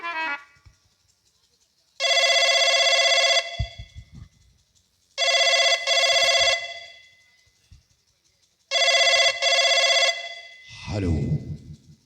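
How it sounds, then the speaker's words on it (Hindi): A telephone rings in three separate bursts of electronic ringing across a Hindi drama scene, each burst loud and sustained with short gaps between them; faint voices come in at the end. "सेनापति शेर सिंह को इसी वक्त फोन कर दो।"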